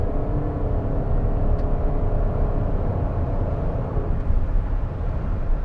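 A 2020 Toyota Highlander Hybrid under hard acceleration, heard from inside the cabin as a steady, loud low rumble and whir of engine and road noise that holds throughout without obvious gear changes.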